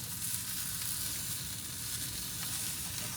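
A steak sizzles steadily in a hot pan, a dense, continuous crackling hiss that holds at an even level for the whole stretch with no talking.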